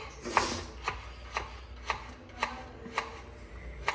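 Carrots being chopped with a knife on a board in a home kitchen, about eight crisp, evenly spaced cuts, close and fairly quiet, with no talking.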